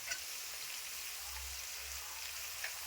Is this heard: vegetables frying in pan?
yes